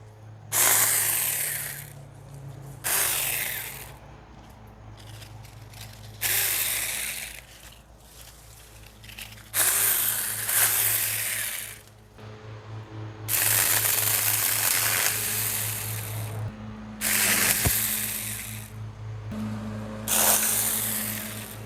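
A handheld trimmer cuts back a garden bush in repeated buzzing bursts, each a few seconds long. The motor whine rises and falls as the blades chew through branches, with short pauses between the passes.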